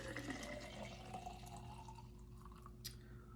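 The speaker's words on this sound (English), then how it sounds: "I'll pour it in this individual cup here, glass here." Fresh homemade juice, roughly 400 milliliters, pours from a container into an individual glass with a soft, steady trickle and a few faint drips over a low hum. No one speaks.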